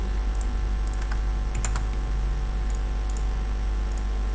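A computer mouse being checked for a left-click fault produces a few sharp, close clicks, scattered and irregular over a steady background hum, with no talking.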